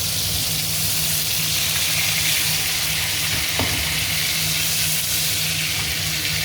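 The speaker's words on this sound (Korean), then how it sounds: "거의 튀기듯이 지금 되고 있죠" Chicken thigh steak sizzles loudly in a pan over high heat, a constant crackling hiss with occasional pops and a low hum underneath.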